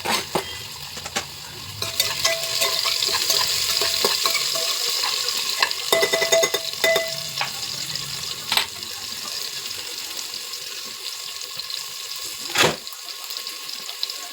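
Tomatoes dropped into a hot pan, hissing and sizzling as they are stirred with several sharp scrapes, then the sizzle fades toward quieter stirring, close with no voices.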